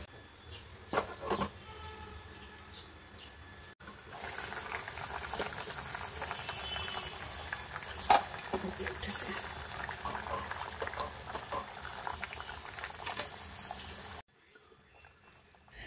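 Curry broth with potatoes simmers in a pot for a vegetarian banana-flower dhoka dish, a faint, continuous bubbling that rises after a few quiet seconds, persists for about ten seconds, then cuts away.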